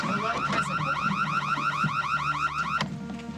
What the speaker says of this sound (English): Maddie, the alarm's supposed to do that until Will puts in the code.